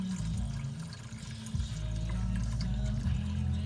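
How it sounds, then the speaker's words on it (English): Old, watery gasoline with a faint corn smell drains from the fuel tank of a Toyota found sitting in a field, a steady low gush and trickle of liquid running continuously without talk. "we're going to crack open that, hot wire the tank, and purge out that old gas"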